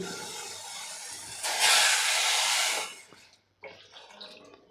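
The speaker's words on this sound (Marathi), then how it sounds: "तर इथे बघा एक ग्लास मी पाणी घालणार आहे" A glass of water is poured into a cooking pot holding drumstick pods for a village-style curry, a loud steady rushing splash for about three seconds that cuts off, followed by a softer stretch of kitchen noise.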